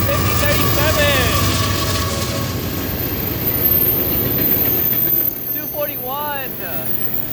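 Westbound Canadian Pacific freight train on the Galt Subdivision led by a CEFX locomotive, passing close with a steady loud rumble of engines and rolling cars, high whines and squealing wheel tones over a broad roar.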